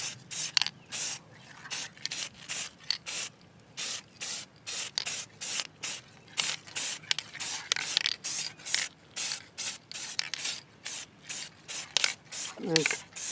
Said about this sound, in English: You just want to lightly fog it first, just to get the paint familiar with the surface and create a good adhesion.